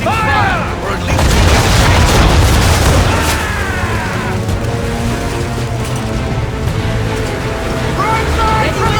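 Ship cannons fire a broadside with chain shot in the game Assassin's Creed 3, rolling booms layered under loud battle noise and whistling projectiles, dense and continuous throughout.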